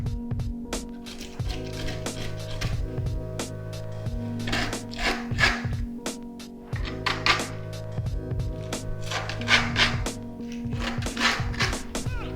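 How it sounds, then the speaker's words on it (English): A file rasps repeatedly along the griptape edges of a scooter deck, a close series of rough scraping strokes with short pauses between them, no talking. "you want to file away all the edges"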